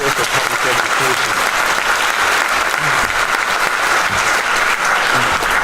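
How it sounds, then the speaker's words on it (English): An audience at a public talk applauds and cheers for public education, producing a dense, loud, continuous wash of clapping that fills the whole stretch with steady intensity. "So, cheer for public education."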